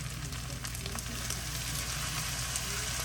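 Dirty rice with sausage sizzles and crackles in a pan while being stirred, a steady close-up frying hiss with small scraping ticks, no talking.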